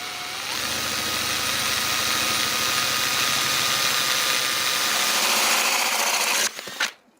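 A drill fitted with a milling bit grinds into a coconut shell in a steady, loud, close whine that holds for several seconds before the motor winds down and stops.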